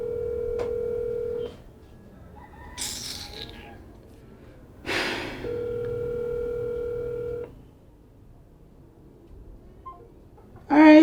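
A telephone rings unanswered in two long electronic ring bursts separated by silence, with sharp breaths or short vocal noises in between and a loud sound at the very end.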